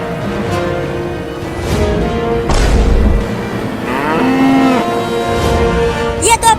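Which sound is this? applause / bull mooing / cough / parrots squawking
bull mooing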